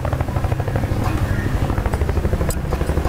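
A helicopter in the Battlefield Bad Company 2 video game thumps with a loud, steady rotor beat and engine drone for the whole three seconds, with no speech over it.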